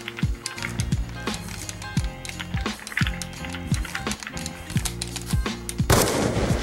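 Pistol gunshots in Black Ops 2, a quick series of sharp cracks with mechanical clicks in a busy game mix, ending in a louder burst.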